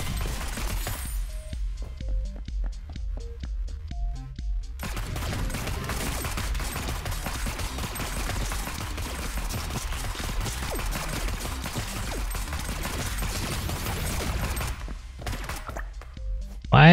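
Rapid automatic gunfire rattles almost continuously in the video game Neon Abyss, dense bursts with a short quieter lead-in of electronic tones and a brief pause near the end.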